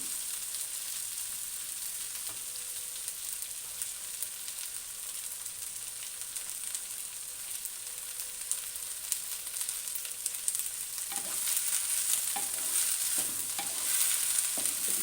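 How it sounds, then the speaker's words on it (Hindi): Okra sizzling and frying in a pan for dhaba-style masala bhindi, a steady broadband hiss that grows louder and busier in the final few seconds as stirring scrapes and clicks join in; no talking. "अच्छी तरह से भिंडियों को हम भून लेंगे।"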